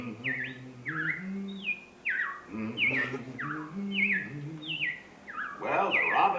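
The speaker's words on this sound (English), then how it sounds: "Well, the robins are back. That's a sure sign of spring." Recorded robin song plays as a sound effect in the Carousel of Progress stage show at Walt Disney World, with repeated bright chirping phrases, fairly close and clear over a low background murmur.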